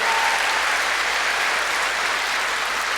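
A stand-up comedy audience applauds in a continuous, thick wash of clapping, loud and unbroken with no voices standing out.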